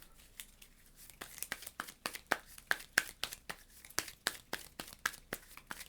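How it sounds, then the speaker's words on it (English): A deck of game cards shuffled by hand, a rapid series of about twenty crisp papery snaps and flicks in uneven rhythm, close and clear over a quiet background. "We're going to shuffle that up."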